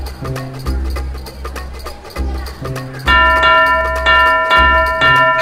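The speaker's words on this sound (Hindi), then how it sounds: "घंटी कौन मारने के तने?" A school bell struck repeatedly by hand, giving a series of bright ringing strikes in a steady rhythm, the later blows louder and more sustained, over a low background hum.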